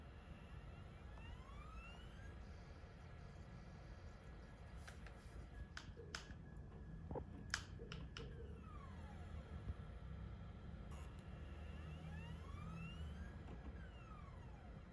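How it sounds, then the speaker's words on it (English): A Polymega console's CD drive struggles to read a failing disc, giving faint whirring tones that rise and fall with a cluster of sharp ticking clicks in the middle, all very quiet. "You can hear the Polymega trying to read, like the CD drive trying to read it, then it slowly quiets out."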